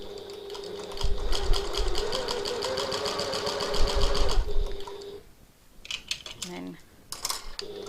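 A sewing machine stitches along a fabric edge of a piped pocket tote at regular stitch length, running in a steady rapid whir for several seconds before stopping, followed by small clicks and handling sounds.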